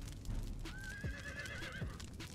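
A horse whinnies loudly in the video game Conan Exiles, a long wavering neigh over heavy hoof clip-clops and low rumbling game ambience.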